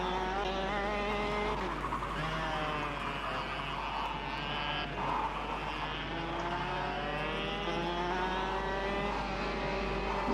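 Go-kart in the KartKraft racing game sliding through a corner, tyres scrubbing as the engine note revs and then drops, a steady loud mechanical drone running throughout without talk.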